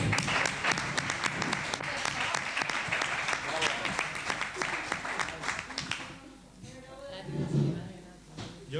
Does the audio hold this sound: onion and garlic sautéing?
no